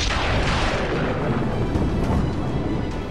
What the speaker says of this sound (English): A great explosion would be created all over the place